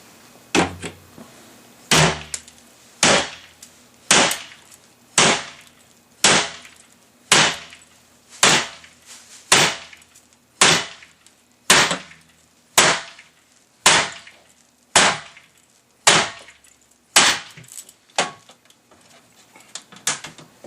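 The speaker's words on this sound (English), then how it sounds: "we're ready to just pop it with a hammer or a crowbar," A hammer strikes a vinyl window rail during window removal, roughly sixteen sharp, loud knocks at a steady pace of about one per second, each with a brief woody crack and short decay, no voices.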